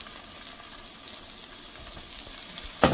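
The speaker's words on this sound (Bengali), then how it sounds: "বলটা আমি কিছু বল ভেজে নেব বাটারে" Chicken balls frying in butter in a pan, a steady soft sizzle and crackle throughout, with a louder clatter right at the end; no talking.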